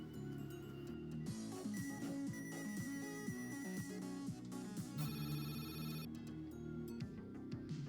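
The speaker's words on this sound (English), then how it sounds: "you answer the phone while in the middle of the road." An old brick-style cell phone rings in the video game Grab Bag, a repeating electronic ringtone of bright tones layered over busy game music and effects at a moderate level.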